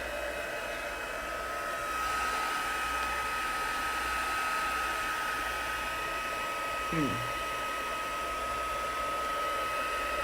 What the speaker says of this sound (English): Now this is a bit noisy, so I'm bringing in my heat tool here.